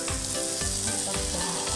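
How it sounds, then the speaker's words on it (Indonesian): Meat frying in a pan for a simple Korean-style barbecue with spicy sauce, a steady loud sizzle crackling throughout with periodic stirring or scraping sounds, no voices. "Sekarang aku juga mau yang goreng daging guys."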